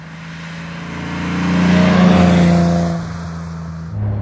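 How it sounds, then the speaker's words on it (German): A 1960 Mercedes 300 SL Roadster W198 running while driving, its engine note swelling to a steady, loud drone as it accelerates past, then easing off, no talk over it. "Also laufen tut der Motor toll."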